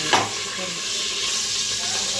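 Continuous sizzling of garlic frying in hot oil for a dal tempering, with a brief clink at the start and a steady hiss afterward.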